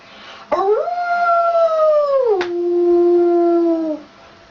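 A voice imitates a wolf howling: one long, loud, close howl that rises sharply, holds, then slides down and fades, with no other sounds.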